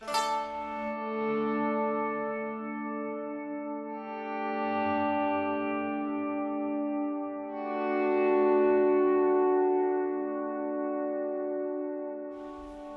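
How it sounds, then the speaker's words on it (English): A sustained synthesizer pad tone is washed in reverb and delay, its smeared chords swelling and fading in slow waves before trailing off into echoing repeats. "the reverb is adding even more smearing"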